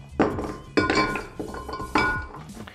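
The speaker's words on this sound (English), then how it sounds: "we're gonna use a rocks glass, and we're gonna use some nice clear ice." Clear ice cubes clink and knock into a rocks glass in four distinct, bright, close impacts, each ringing briefly before the next, with no speech.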